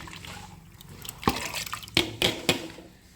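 Washed lentils for sambar dal tipped into water in a cooking pot, giving a few close wet splashes and plops over soft liquid sloshing.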